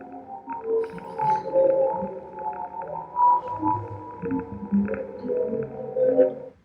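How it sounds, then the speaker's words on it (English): Sonification of a Hubble deep-space image of galaxies: eerie, dissonant synthetic tones that slide and swell like whale calls, layered and drifting in loudness, with no talking. "this is a sonification of a Hubble deep space image"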